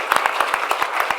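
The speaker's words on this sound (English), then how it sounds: "Give him a round of applause, ladies and gentlemen." Audience applause at a travel innovation summit in India, a brief burst of steady, dense clapping from a crowd, fairly close and without talk over it.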